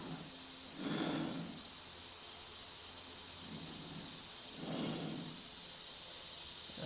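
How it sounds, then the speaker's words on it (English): Slow, heavy breathing of astronauts inside spacesuits, with rhythmic inhales and exhales rising over a constant hissing air-supply background, in 2001: A Space Odyssey. "that's the noise of the breathing of the astronauts that we hear"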